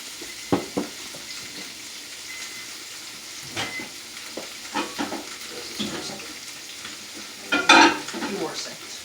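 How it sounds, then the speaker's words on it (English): Pieces of fish, still slightly frozen, sear in a hot frying pan with a soft, steady sizzle. Sharper crackles and clatters come and go, the loudest near the end, and there is no talking. "Sear. That lovely sear we love to hear."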